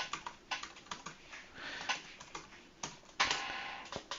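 Someone types a password on a computer keyboard, giving a quiet, close run of quick, irregular key clicks with one slightly sharper tap near the end.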